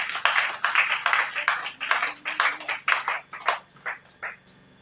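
A congregation claps in rhythmic bursts at a church service, the applause coming in a steady beat that gradually thins and fades out.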